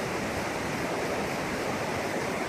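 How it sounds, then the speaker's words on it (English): Steady, dense rushing water roars continuously at the Koh Chang waterfall in Thailand, a broad even wash of falling water with no voices. "so we managed to find the Koh Chang waterfall"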